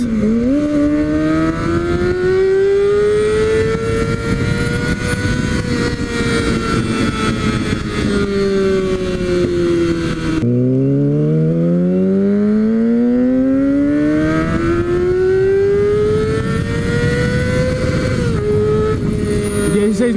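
A Kawasaki Ninja ZX-6R sport motorcycle engine revs hard and loud, its pitch climbing steadily, dropping sharply midway, then winding up high again.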